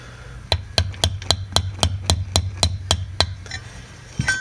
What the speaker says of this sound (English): you can tell the sound of when the pin starts moving